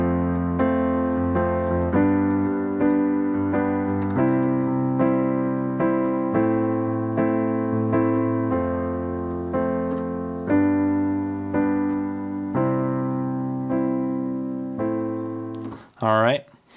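Piano chord progression from a song, a steady run of sustained chords changing about every second or two, played alone and close, with a brief rising tone at the very end.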